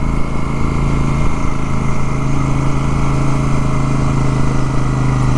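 A Royal Enfield Super Meteor 650 motorcycle engine drones steadily while riding on hilly roads. The loud, even hum with wind rush runs without pause.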